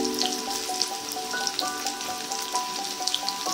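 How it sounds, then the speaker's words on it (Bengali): Chopped onions fry in oil with a steady, close sizzle and bright little pops scattered throughout, while a faint tonal hum sits underneath. "প্রথমে অর্ধেক পেঁয়াজ ভেজে নেব।"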